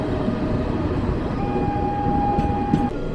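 A Kumbh special train runs toward the Naini bridge over the Yamuna near Prayagraj, its steady wheel rumble and carriage noise heard from onboard, with a sustained horn tone sounding through the middle of the clip.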